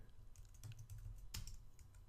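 Quiet clicking on a computer keyboard while a Linux terminal command is typed, several close keystrokes in an uneven rhythm with one sharper tap, no talking.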